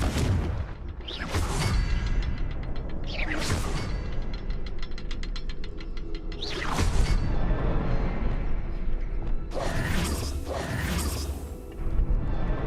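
Confringo fire spell blasts in Hogwarts Legacy: a series of sharp whooshing bursts and booms, roughly five, fired at irregular intervals over a continuous loud rumbling game backdrop.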